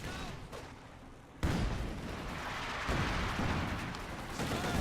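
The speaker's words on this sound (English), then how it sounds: "the mortars continue their deadly work, doing incredible amounts of damage" Mortar shells land in a war strategy video game, a sudden heavy blast followed by a sustained rumbling barrage of distant booms and crackling impacts that stays loud to the end.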